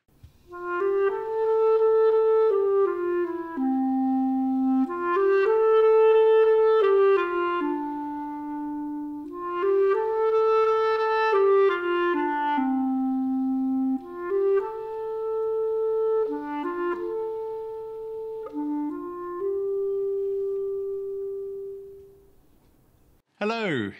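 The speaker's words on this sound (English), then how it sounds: "I play the clarinet, and it sounds like this" A clarinet plays a solo melody alone, with warm, woody held notes and stepwise phrases at moderate loudness, close and steady over a faint background hiss, finishing on a long sustained tone.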